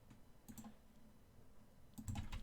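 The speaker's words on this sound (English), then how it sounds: "Let me type it here." Typing on a computer keyboard, two brief clusters of quick soft key clicks separated by a pause, close but quiet, with no talk.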